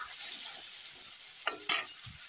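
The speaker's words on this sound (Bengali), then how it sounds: "হলুদ লবণ দিয়ে এখন বেগুনটা আমি হালকা ভেজে উঠিয়ে নেব।" Eggplant seasoned with turmeric and salt fries lightly in oil, a faint soft sizzle broken by two brief, sharper stirring scrapes near the end.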